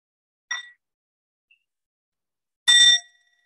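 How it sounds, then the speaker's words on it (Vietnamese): A meditation bell is struck twice: a short light ding, then a louder, brighter ring that lingers briefly and fades into silence. "mình lắng nghe một tiếng chuông và thư giãn theo đó"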